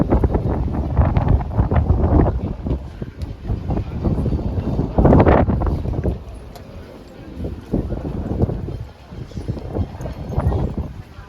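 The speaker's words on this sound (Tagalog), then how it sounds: "So windy." Gusty wind blows outdoors along a street by old fortress walls in Malta, buffeting the microphone in heavy low rumbling waves, with some talking mixed in.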